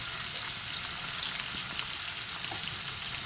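Chopped garlic, seven or eight cloves, frying in hot oil for a Kannada-style raw tomato gojju, giving a steady, dense sizzle with faint stirring throughout, close and alone without any talk.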